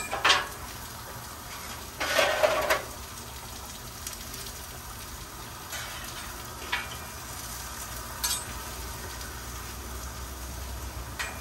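Mushrooms, onions and zucchini frying in oil on a Blackstone griddle, a steady close sizzle broken by scraping spatula strokes and light clinks of utensils.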